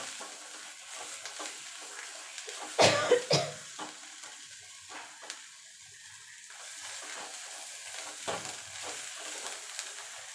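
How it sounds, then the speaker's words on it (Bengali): Soft sizzling with a spatula scraping and stirring ground kharkol leaf paste in a wok, a short burst of louder clatter early on, then quieter frying; no talk. "এবার এটাকে ততক্ষণ সাতলাতে হবে যতক্ষণ কড়াই থেকে ছেড়ে না আসছে।"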